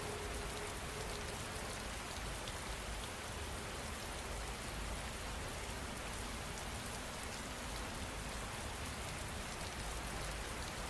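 Steady rain pours down in a dense, unbroken hiss of drops striking surfaces, loud and even from start to finish with no voices.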